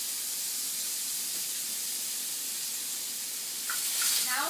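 Mushrooms sizzle in a hot pan as a steady, broad hiss, close and continuous, with a voice briefly starting near the end.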